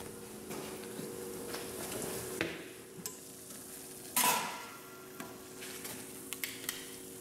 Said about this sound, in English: There you have it, the water's still boiling.